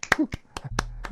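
A few sharp, quick hand claps ring out close by on a radio show, mixed with a person speaking between the claps.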